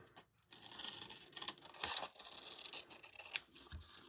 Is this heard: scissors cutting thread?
yes